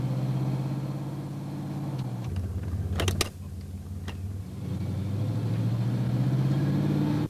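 A car with a 2004R automatic transmission hums along steadily on a road test, its engine note dropping briefly as it shifts and then climbing again, with a couple of sharp clicks partway through.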